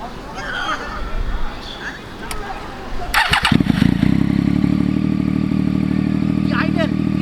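Triumph Daytona 675R with an SC Project exhaust cranks over and fires, catching into a loud, steady, throaty idle right up close after some background chatter at the start.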